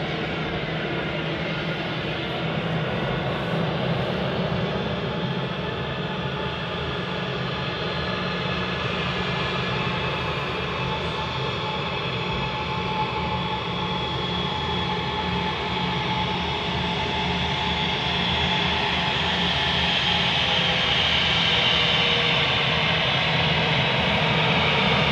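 An EasyJet airliner's engines run on the runway at Manchester Airport, producing a loud, steady broadband roar that holds for the whole stretch and swells slightly toward the end.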